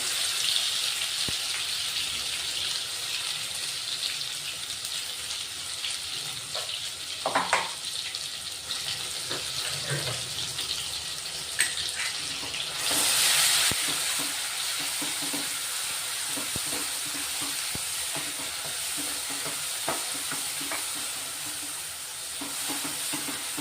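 A ground masala paste is poured into a hot pan and fries with a steady, close sizzle, with stirring scrapes and a brief louder splash partway through, no talking over it.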